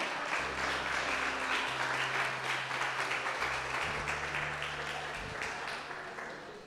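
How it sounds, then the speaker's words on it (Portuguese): Applause from a church congregation during a Sunday celebration service, a dense steady wash of clapping filling the room throughout, with a low sustained tone and faint voices underneath. "Vamos aplaudir o Senhor Jesus"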